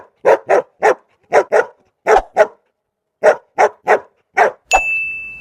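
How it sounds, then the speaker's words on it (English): A dog barks in a quick run of about a dozen short, close barks, grouped in bursts with a pause in the middle, ending with a ringing chime. "This is dog."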